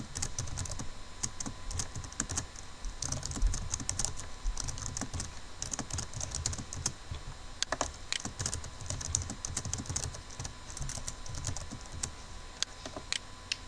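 Continuous fast typing on a computer keyboard while entering HTML tags, dense clicking keystrokes close up with no talk, steady throughout with a few louder key hits.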